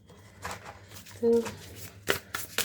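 Tarot cards are shuffled by hand in quick riffling bursts, close and fairly soft, with brief shuffling rustles under a faint background.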